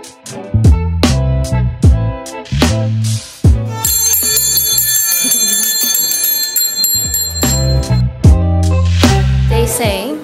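Bell ringing in the courtyard at Bran Castle in Brașov, Transylvania: loud, close, rapid metallic strikes repeating in a steady rhythm, with a long ringing stretch in the middle before the strikes resume.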